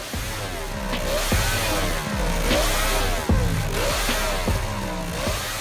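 A Moto Guzzi V8 racing motorcycle engine from 1955 runs with a loud, dense mechanical roar, rising and falling in repeated revving sweeps, close and continuous with no voices.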